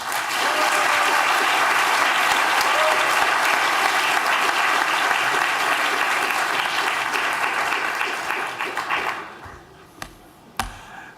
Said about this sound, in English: let's please welcome with a round of applause President Deland Golfin.